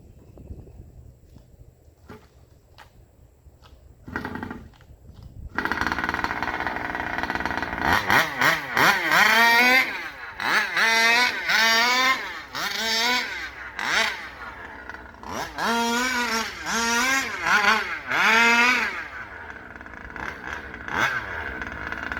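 A rebuilt Rovan 30.5 gas engine revs at half throttle: a quiet idle, then about eight sharp, rising two-stroke rev bursts in quick succession, loud and close, with no talking.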